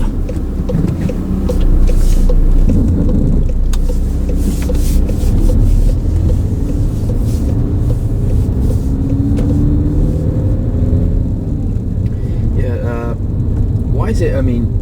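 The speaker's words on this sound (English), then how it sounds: "First gear, please, Tony." A car pulls away in first gear at a driving lesson, a steady close engine drone with rising revs and a low cabin rumble running throughout, while people talk over it.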